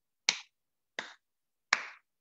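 Three sharp hand claps, evenly spaced about three-quarters of a second apart, crisp and close with quick decay and silence between them.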